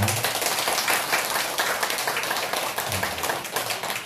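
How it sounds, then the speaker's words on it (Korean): Applause from the congregation at a monthly Buddhist temple dharma service, a steady dense patter of clapping filling the room and holding for about four seconds, with faint voices mixed in. "박수 부탁드립니다"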